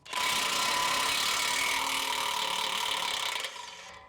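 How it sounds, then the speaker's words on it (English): A 1/2-inch impact wrench with a short extension drives off rusted bolts on a truck exhaust mid pipe, a loud continuous buzzing hammer lasting about three seconds before dropping off, close by and alone. "You just put the 1/2" impact on it and it'll pull it off."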